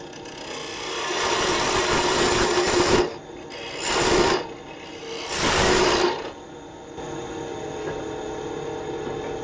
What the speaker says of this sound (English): let's just get rid of a little bit of waste wood here in the middle